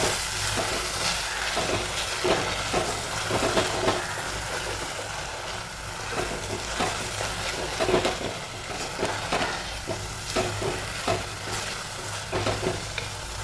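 A thick spice paste fries and sizzles in oil while being stirred, with repeated scraping and bubbling bursts over a continuous hiss.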